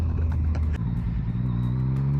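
Yamaha MT-09 triple-cylinder motorcycle engine revving on the road with a twitchy throttle, a close, steady growl whose pitch dips and then climbs, heard alone without talk.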